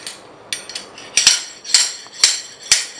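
A slotted hammer strikes a metal surgical nail extraction device from a PFNA2 nailing instrument set, giving sharp metallic clinks. Six or so close, bright hits come in an uneven rhythm, with no talking.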